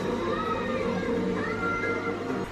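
A fat house cat meows a couple of times at close range over a steady background hum, with no one speaking.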